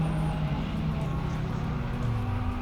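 Race car engine from Assetto Corsa Competizione idling steadily in the pit lane, a loud, continuous low drone with slowly shifting tones and no talk over it.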